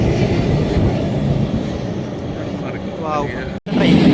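A loud, continuous rumble of a passing freight train near Rüdesheim dominates, with rattling cargo wagons and a brief cutoff near the end; faint tonal squeals rise above the roar.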